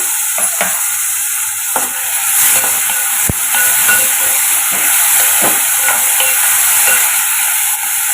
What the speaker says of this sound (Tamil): தக்காளிக்கு தேவையான உப்பு சேர்த்து வதக்கி எடுத்துக்கோங்க